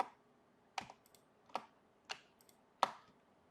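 Keys on a computer keyboard are struck in a slow, sparse sequence, about five distinct clacks spaced under a second apart, close and clear against a quiet room.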